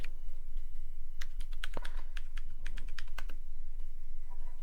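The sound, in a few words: typing a command on a computer keyboard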